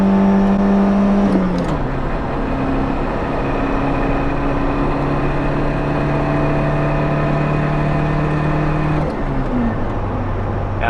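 Ford Festiva rally car engine floored while climbing a hill, a loud, steady droning rev that rises through two gear changes, close and continuous throughout.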